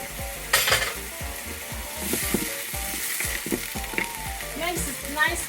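Onion, broccoli, pepper and ginger stir-fry in a hot pan, making a continuous sizzle punctuated by repeated rhythmic scrapes and clatters of a utensil against the pan, fairly close, with no speech.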